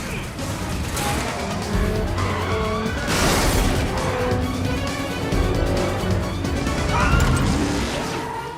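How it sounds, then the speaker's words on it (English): A BMW skids hard during a street-racing chase, then strikes a curb and flips, with a loud crunching burst midway through continuous engine and tire noise layered under music. "The BMW hits the curb and flips."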